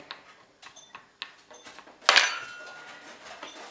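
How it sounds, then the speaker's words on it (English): Fork pricking holes in the bottom of pie dough for a quiche: a series of light, quick taps, close and faint, then a louder clattering knock. "I'm now just going to prick a bunch of little holes at the bottom of my pie."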